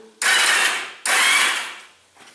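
The engine of a 2008 Yamaha V Star 1100 cruiser motorcycle cranks with its spark plugs removed, two loud whirring bursts of the starter spinning the engine freely, each fading off, with no firing.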